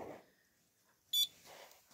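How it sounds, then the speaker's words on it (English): A Notifier repeater panel buzzer sounds during a test, one short, sharp electronic beep near the middle, with quiet handling noise before and after. "Tests the buzzer"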